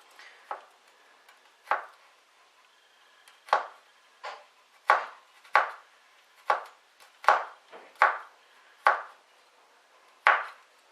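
A knife chops a garlic clove very finely on a cutting board, about fifteen crisp, separate strikes in an uneven rhythm, close and clear with quiet pauses between.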